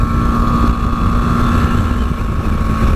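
A 2018 BMW G310GS motorcycle climbs uphill while overtaking, its engine droning steadily under heavy rushing wind noise with no talking.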